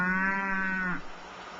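A cow in rural Mongolia gives one long, tonal moo lasting about a second, fairly close and clear, then trails off into quiet outdoor background.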